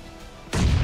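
A grenade blast in a competitive first-person shooter match, one sudden loud boom after a quiet stretch of low ambience, its rumble holding to the end.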